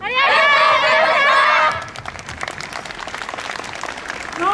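Loud audience applause and cheering break out at a YOSAKOI festival dance in Ashikaga, with dense clapping and shouts from a large crowd before fading to scattered claps and murmurs.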